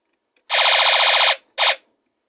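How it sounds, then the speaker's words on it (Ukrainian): A rapid electronic rattling burst from a Znatok electronic kit circuit's machine-gun sound effect runs for almost a second, then a short second burst follows; loud, buzzy and synthetic. "щоб були звуки кулемета зі світловим супроводом"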